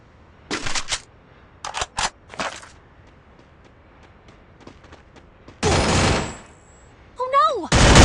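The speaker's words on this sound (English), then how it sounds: "Fire your weapon now!" Weapon gunfire in the Free Fire mobile shooter game, short loud bursts of close automatic shots separated by brief pauses, then a longer sustained burst and a final volley, with no talk.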